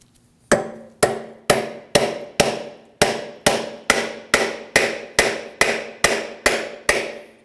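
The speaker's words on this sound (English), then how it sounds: "Now we'll be using a punch and a hammer. We'll be hitting right at the end of the stud right here." Hammer blows on a steel punch driving out a stud from a power running board motor bracket on a 2009-2014 Ford F-150, about fourteen sharp metallic strikes in steady rhythm, close and loud with ringing decay.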